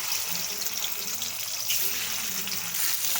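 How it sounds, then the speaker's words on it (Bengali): Parshe fish rubbed with salt and turmeric fry in hot oil in a wok, giving a continuous close sizzle and hiss that stays steady throughout. No voices are heard. "হালকা করে মাছগুলো ভেজে নেব।"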